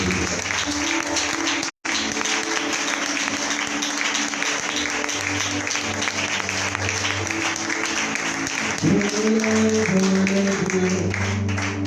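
A church congregation applauds at a Christian conference, a dense, sustained wash of clapping with a brief cut near the start, while sustained musical tones play underneath.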